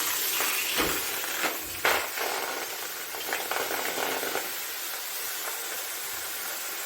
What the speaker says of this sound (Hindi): मैंने चूल्हा ऑन कर दिया और मैं इसमें डालूंगी गाजर